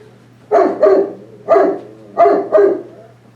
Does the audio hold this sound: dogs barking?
yes